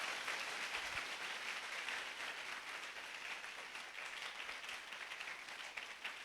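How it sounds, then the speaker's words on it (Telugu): A congregation at a large outdoor gospel meeting claps together, a soft, distant wash of steady applause that runs the whole time with little change. "ఇంతవరకు ఘనమైన కార్యం చేసిన దేవునికి చప్పట్లు కొడుతూ ప్రభుని మహింపరదామా?"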